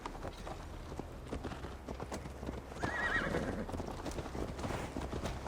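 A horse ridden in Assassin's Creed Valhalla clip-clops at a steady walking rhythm, close and fairly quiet, with a brief whinny midway.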